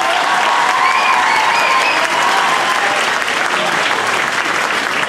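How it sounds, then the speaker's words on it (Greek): A concert audience gives sustained, dense applause to welcome a school choir of equal voices at a music school in Trikala, steady and full throughout with a faint murmur of crowd voices underneath. "ας υποδεχτούμε τη χοροδία με ένα χειροκρότημα"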